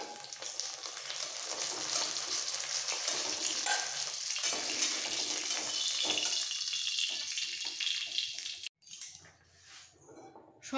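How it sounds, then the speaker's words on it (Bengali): Pieces of rohu fish fry in hot oil for a curry, giving a steady, dense sizzle that fills most of the clip before cutting off abruptly and returning more quietly near the end. "এই মাছগুলো ভাজা হয়ে গেছে, এরকম লাল করে একটু ভেজে নিতে হবে।"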